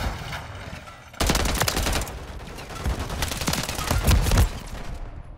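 Rapid bursts of automatic gunfire from the video game Call of Duty Modern Warfare 3 crackle in close, loud volleys that start suddenly and keep rattling almost without pause.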